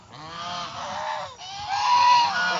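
Geese honk on a farm where goose and Muscovy duck eggs are being collected: two loud, close, nasal honking calls in quick succession, with no talk over them.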